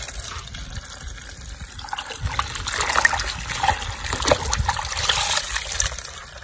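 Water runs from a tap at home in a steady, close splashing flow that swells and gurgles toward the middle, with faint background sounds.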